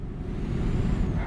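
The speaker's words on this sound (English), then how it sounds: "it's weird hearing these trucks rolling in next to you" Heavy trucks roll past in the American Truck Simulator driving game, a steady loud low rumble of engines and tyres with a brief hiss of air at the very end.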